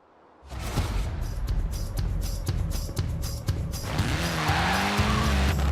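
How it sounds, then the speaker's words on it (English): A rally car in Forza Horizon 4, the most British car of them all, roars along with a loud, steady engine note and rising revs, gravel crunch and tyre noise, close and continuous. "A spot of rallying in the most British car of them all"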